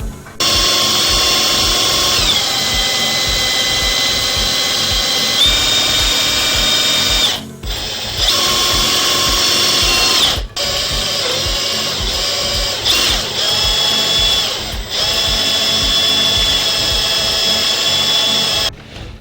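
A specialist drain-clearing drill machine unclogging a badly blocked sink drain, a loud steady motorized whine and grinding with a few brief stops and restarts, close by.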